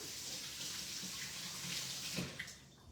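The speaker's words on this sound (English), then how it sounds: "I gotta wash my hands" Kitchen tap running while hands are washed under it, mid-way through making homemade low-carb tortillas: a steady close splashing water stream, moderately soft, with slight shifts as hands move, no talk.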